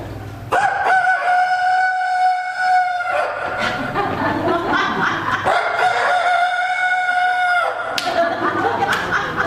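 A comedian imitates a rooster crowing on stage at a nursing home concert, giving two long, loud, drawn-out calls with a brief pause between them.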